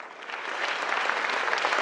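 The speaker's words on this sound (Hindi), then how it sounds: "दिव्यांग के हमारे जितने अवॉर्डीज हैं उनके लिए जोरदार तालियां" Hall audience at an award ceremony applauds the disabled-category awardees, a dense, loud burst of clapping that swells slightly and holds steady.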